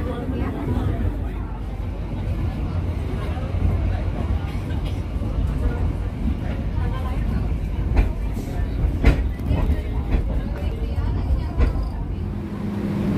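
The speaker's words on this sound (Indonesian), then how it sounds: "Kereta api Motis melintas langsung stasiun Gede Bage." A Motis passenger train runs straight through Gedebage station without stopping, making a continuous low rumble with scattered wheel clacks. The sound stays close and steady throughout the pass.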